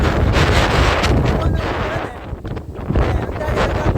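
Strong wind blasts across the microphone on a high mountain summit in the Barda hills, a loud continuous roar that gusts and dips briefly before surging again.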